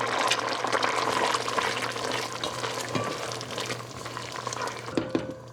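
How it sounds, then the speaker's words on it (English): Curry with vegetables and tofu stirred in a pan over medium-high heat, a continuous close sizzle and bubbling with the scrape of the spoon, easing slightly toward the end, no voices. "just stir our curry as it cooks intermittently so that it doesn't burn on the bottom"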